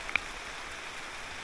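Steady rain falls in a rainforest, a soft even hiss with a few brief drop ticks, no voices.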